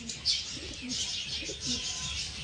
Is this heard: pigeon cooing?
yes